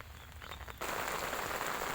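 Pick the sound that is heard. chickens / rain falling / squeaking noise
rain falling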